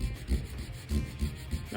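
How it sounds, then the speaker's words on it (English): Hand sanding with a fingertip over a gelcoat repair on a MasterCraft Prostar 190 boat: a close, continuous gritty scrubbing with rhythmic back-and-forth strokes swelling and fading, no talk. "you gotta be really careful sanding on a body line, whether it's a car or a boat"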